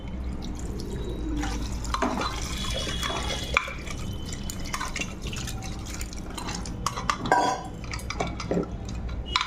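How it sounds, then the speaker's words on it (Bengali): Water from a small pot goes into a pressure cooker while goat trotters are cooked, heard as clinking metal, splashes and dripping in a kitchen, close and moderately loud, with no speech. "এবারে ঘটিতে ছোটো ঘটিতে এক ঘটি জল দিয়ে দেবো"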